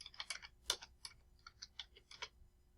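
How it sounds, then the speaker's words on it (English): Quiet, irregular clicking of keys on a computer keyboard as a short word is typed, the taps faint and closely spaced with no voice over them. "Go ahead and type receipt."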